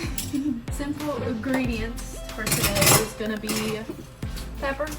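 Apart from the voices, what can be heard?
dishes being washed in kitchen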